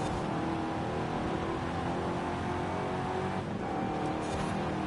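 A car fitted with a race exhaust revs hard in a racing video game, a loud, steady engine drone with rising and falling pitch running throughout, no voices over it.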